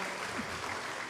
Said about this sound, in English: we'll put the extra effort into the clapping, the applause, and the screaming.